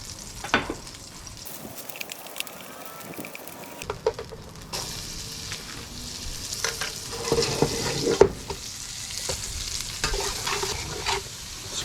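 Salt pork and onion fry in a pot with a steady crackling sizzle, broken by stirring scrapes and clatter, loudest toward the end.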